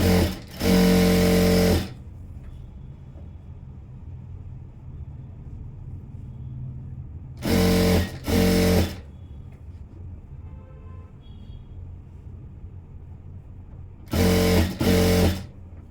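A sewing machine stitches a thin blouse knot rope in three loud, close bursts of fast running, each lasting one to two seconds, with quiet pauses and low background hum between them.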